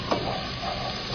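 Ginger garlic paste with a pinch of turmeric sizzling and frying in a hot pan, a steady close hiss with light stirring scrapes throughout.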